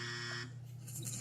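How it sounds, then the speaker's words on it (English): A flat electronic buzzer drones for about half a second, then cuts off, leaving a quieter tonal hum and faint background noise. "He brought the buzzer!"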